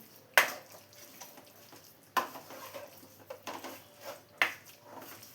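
Masala-coated chicken being stirred in a pan for a coconut-milk chicken perattu, with three sharp spoon scrapes against the metal and softer scraping and clinks in between, close and moderately quiet.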